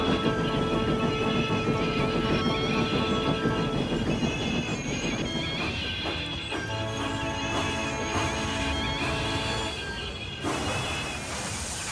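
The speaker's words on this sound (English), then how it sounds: "As they approached Edward Station, the brakes went wrong on the last coach of the train" A train rumbles along with squealing wheels and metallic clatter, its last coach's brakes faulty, the sound dipping briefly near the end as it slows, loud and close with no voices.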